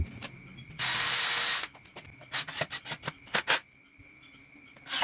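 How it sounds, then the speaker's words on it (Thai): A power drill drives 1.2-inch self-tapping screws into a wooden chair backrest for a DIY coffee table set. It starts with one sustained rasping burst, then a run of short, choppy grinding bursts, close and fairly loud. "เพื่อทำการยิงน็อตเกียร์ปล่อย น็อตเกียร์ปล่อยที่ใช้ยิงนะครับ"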